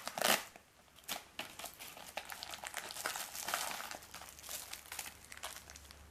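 A mylar emergency blanket from a first aid and survival kit crinkles and rustles up close, with a sharp burst at the start followed by steady, irregular crackling and crumpling throughout.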